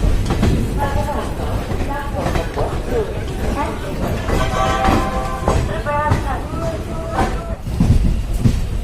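Mussoorie Express passenger train rolling on rails between Delhi and Najibabad, a steady rumbling, rattling carriage noise heard from on board with talking over it throughout.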